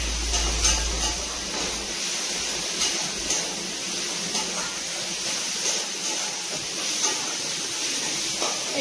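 Green chillies sizzle in a pan with spices being fried down, giving a steady close hiss with faint crackles that runs throughout, alone with no talking.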